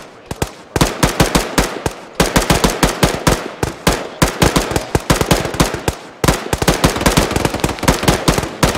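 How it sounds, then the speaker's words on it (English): Loud automatic gunfire in an Arma 3 co-op military firefight, with rapid bursts of close shots that rattle in quick runs and brief pauses between them for nearly nine seconds. "What are you guys all shooting at?"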